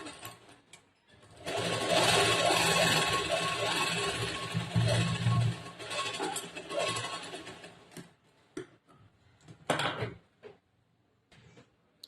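Sewing machine stitching blouse fabric in a steady whirring run of about seven seconds, close and loud, followed by a brief second burst and quiet handling noises.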